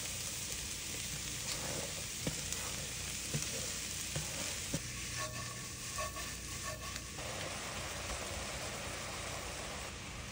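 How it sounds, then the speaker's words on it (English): Lima beans, fresh garlic and roasted vegetables sizzle in a hot pan for succotash, a steady moderate frying crackle with intermittent clicks and stirring knocks. "Throw in your limas and you want to try and get that skin nice and blistered"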